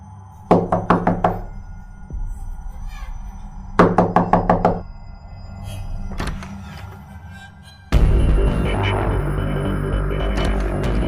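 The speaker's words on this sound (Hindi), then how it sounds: "गांव में आने के बाद मैंने सीमा के दरवाजे को नॉक किया।" Knocking on a door as a horror-story sound effect: two sharp bursts of several rapid knocks separated by a quiet pause, then a loud rushing wash of noise that fills the end.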